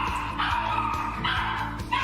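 A dog barks several times in short yips and bow-wows, fairly close, over a steady low hum and background noise; no clear speech.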